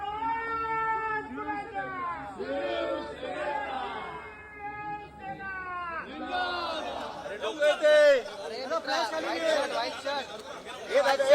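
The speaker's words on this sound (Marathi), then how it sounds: "दहाव्या जागेचा निकाल हाती येताच विद्यापीठ परिसरामध्ये यावेळी एकच जल्लोष करण्यात आला" A crowd celebrates the Thackeray group's senate election win on the Mumbai University campus. Many voices nearby shout and chant over each other, and the noise grows louder and denser toward the end.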